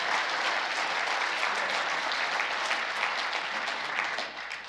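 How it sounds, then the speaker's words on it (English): Dense, sustained applause from a large conference audience at an international WWII conference, steady and loud throughout before tapering slightly at the end, with no voices over it. "let's give all of them a round of applause"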